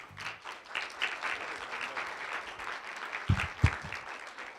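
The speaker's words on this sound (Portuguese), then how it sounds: "quero convidar vocês a receber com uma salva de palmas o professor Carlos Filgueiras" An audience in a hall applauds to welcome a professor, a steady wash of many clapping hands at moderate distance with a couple of louder thumps near the end.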